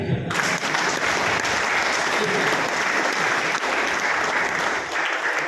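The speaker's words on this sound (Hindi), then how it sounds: "एक बार तालियां हो जाएंगी।" An audience at a motivational talk gives a sustained round of applause, a thick continuous roar of clapping that carries evenly for several seconds, with a voice briefly heard at the start.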